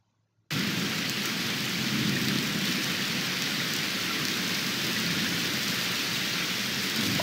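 A heavy downpour with rumbling thunder on dark London streets in Detective Butler: Maiden Voyage Murder surges in after a brief silence, then holds as a loud, dense, unbroken roar of rain and low rolling thunder.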